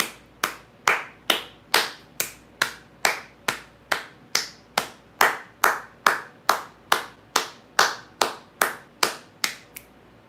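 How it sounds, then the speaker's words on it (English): A single pair of hands claps in celebration: about twenty sharp, evenly spaced claps at roughly two per second, close and loud, with no talking. "As celebration, we will clap."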